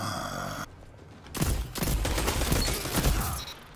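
Bursts of rapid gunfire from the Daedalus Code weapon in Destiny player-versus-player combat, dense crackling shots after a short quiet gap, loud and close with game effects underneath.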